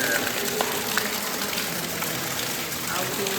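Water shooting forcefully out of a small split in the rock inside the Blue Ridge Tunnel at Rockfish Gap, Virginia, a steady broadband gush that fills the space continuously under faint echoing ambience.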